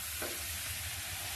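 Food is stirred in a pan with the gas turned off, giving a faint single scrape and a soft, fading sizzle under a low background hum.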